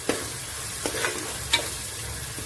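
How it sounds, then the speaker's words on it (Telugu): Ingredients for bone soup fry in a pan over low heat, a soft steady sizzle broken by a few sharp scraping stirs, close and quiet with no talk. "కొద్దిగా ఫ్రై చేసుకున్నాము"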